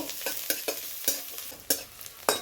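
Chopped onion and green chilli fry in hot oil under a constant crackling sizzle, punctuated by about seven sharp, evenly spaced spatula scrapes across the pan, close up with no talking.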